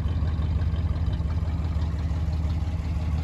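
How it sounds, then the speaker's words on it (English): A 1956 Studebaker President with dual exhaust idles in a low, steady, even rumble, fairly quiet and continuous with no voices over it. "Dual exhaust just purring along nicely."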